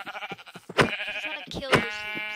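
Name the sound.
sheep bleating in Minecraft video game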